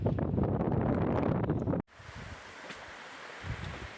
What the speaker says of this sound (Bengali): আজকে নদীতে প্রচুর ঢেউ হচ্ছে